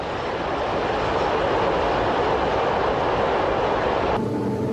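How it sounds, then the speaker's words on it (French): A classic SNCF class 7200 electric locomotive hauls its train along the rails with a steady, loud broadband rumble and rushing roar that holds constant throughout, with no speech. "Et la très classique 7200 reprend sa route"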